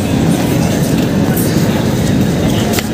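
An express train rumbles loud and close at Tatanagar station, wheels clattering in a steady rhythm under a heavy roar with faint squeals.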